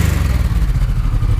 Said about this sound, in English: the motorcycle stabilized at idle